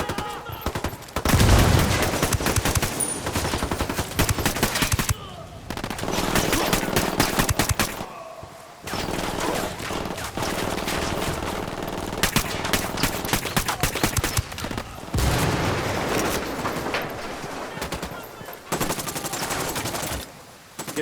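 Sustained bursts of automatic gunfire and fusillades in the Ghost Recon Wildlands video game, loud and dense, broken by brief pauses, with voices shouting over the shooting.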